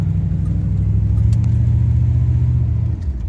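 Car fitted with a shift kit and a cowl hood accelerating on a country road, a loud steady low engine rumble that holds for about three seconds before easing off near the end.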